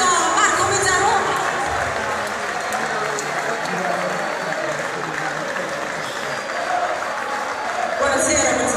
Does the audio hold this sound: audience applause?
yes